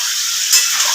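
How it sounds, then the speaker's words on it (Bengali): Chicken meat frying in a pan with sugar added, a loud, close, continuous hissing sizzle with one brief surge of stirring midway. "ভালো করে মাংসটাকে আমি কষে নেব।"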